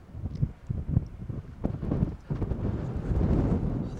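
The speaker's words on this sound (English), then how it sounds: "A little windy. It's blowing with us." Low, rumbling wind gusts buffet the microphone unevenly, swelling and dipping with no voices over the blustery noise.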